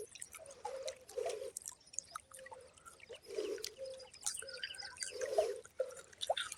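Water gushes from a machine that has just been switched on, giving a fairly quiet, continuous uneven splashing and dripping with no voices over it.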